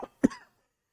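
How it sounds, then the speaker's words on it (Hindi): A man gives a single sharp cough, short and close, alone in a quiet room. "खांसी हो रही है मुझे"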